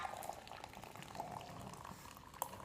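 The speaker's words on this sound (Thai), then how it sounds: "เติมน้ำร้อนลงไปนะคะ" Hot water is poured onto goat milk powder, giving a soft, continuous liquid bubbling and trickling that stays faint and close.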